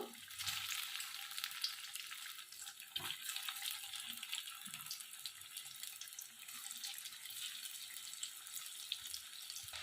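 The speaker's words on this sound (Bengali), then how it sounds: "এবারে এটা ভেজে নেবো হালকা করে" Cabbage dhokla pieces shallow-frying in hot oil in a pan, a faint, even crackling hiss with a few soft thuds and scrapes, quiet and without talk.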